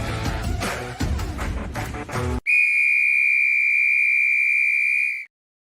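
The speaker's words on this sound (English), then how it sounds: "There's the whistle" A loud, steady whistle tone sounds alone for nearly three seconds, right after a burst of music cuts off, then stops abruptly.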